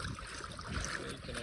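Water rushing and burbling beside a small 7ft sailing rowboat as it moves, a steady close wash of wake noise filling the short moment with no clear pauses.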